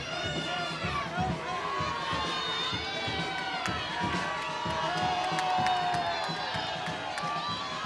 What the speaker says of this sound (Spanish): Aplauso para el rey Baltasar